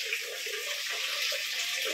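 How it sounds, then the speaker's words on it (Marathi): A tap runs to drain a household water tank, with a continuous close splashing gush and a faint gurgle underneath. "टाकी खाली करायसाठी नळ चालू गेले"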